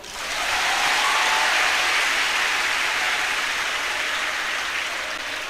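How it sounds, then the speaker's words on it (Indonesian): A crowd at a public religious gathering at an Islamic boarding school breaks into applause, a dense wash of clapping that swells quickly and holds steady with no voices over it. "Tepuk tangan toh."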